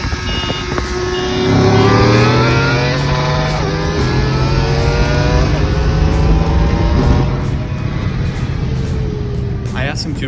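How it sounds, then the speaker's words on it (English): Race car pulling away in first gear, the engine revving loudly and rising in pitch, then the note dropping and sagging after a missed shift into neutral, heard close and continuous with a voice talking over it. "In this first race, I do miss shift, so I go from first into neutral instead of first into second."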